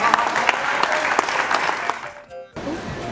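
A studio audience at a comedy show applauds with loud, dense clapping that cuts off abruptly and then picks up again, with voices mixed into the crowd.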